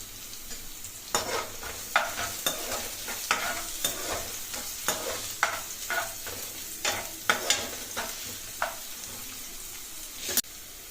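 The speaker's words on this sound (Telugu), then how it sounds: "ఆ తర్వాత జీలకర్ర చిట్టపట్టమన్న తర్వాత సన్నగా కట్ చేసి పెట్టుకున్న ఆనియన్ ముక్కలు వేసుకోవాలి." Chopped onions and green chilies frying with cumin seeds in a pan for a tomato egg curry, with a steady sizzle broken by regular scraping strokes of a stirring spoon, close up and without speech.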